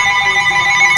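A house phone rings indoors, a loud, steady electronic trill of layered tones that sounds alone and close by.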